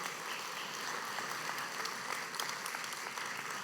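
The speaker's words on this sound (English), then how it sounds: "You can give them a round of applause" An audience gives a round of applause for invited guests at a synagogue Friday service, a dense, steady patter of many hands clapping together, moderately loud and sustained throughout.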